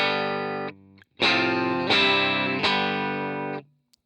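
Distorted electric guitar chords on the bridge pickup ring out through a Super Reverb amp model, a held chord then three strummed hits, each sustaining with a gritty, bright tone.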